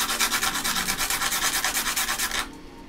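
Dense, hard sandpaper is rubbed in quick, even back-and-forth strokes, close and loud, for a couple of seconds before stopping abruptly.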